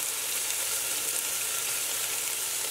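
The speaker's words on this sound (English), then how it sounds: "we're going to let that just begin to cook and sear for a few minutes before we start stirring it" Sausage sears in a pot with a steady, dense sizzling hiss, close and constant for its short length, with no talking.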